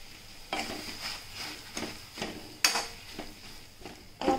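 Pav bhaji masala with butter, tomato and ginger-garlic paste cooking over a medium-high flame, a spatula stirring in repeated rhythmic scrapes and clacks against the pan over a constant sizzle.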